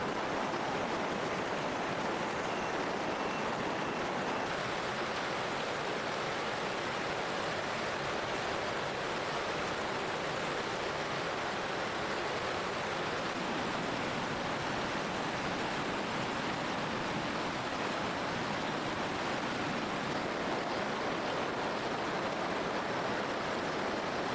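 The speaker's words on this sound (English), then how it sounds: "It was a waterfall, so the water flowed quite strongly." Strongly flowing waterfall on a forest stream beside a small fishing pool, a loud, dense and unbroken roar of rushing water close by.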